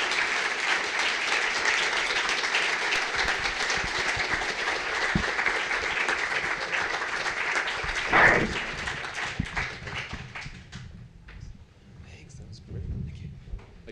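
An audience claps steadily after a talk about building cycling cities, a broad and continuous wash of applause that fades out toward the end, with brief speech near the close.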